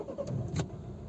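A 2011 Volvo V50 with a 1.6 diesel engine cranks to start in a very brief, muffled low rumble with a couple of quick higher clicks, heard close and without talking.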